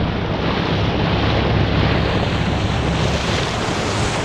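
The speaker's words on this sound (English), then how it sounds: "some of the waves are absolutely massive" Large sea waves surge and rush around a sailing boat midway across open sea between Portpatrick and Campbeltown, a loud, steady roar of surf and water mixed with wind buffeting the microphone throughout.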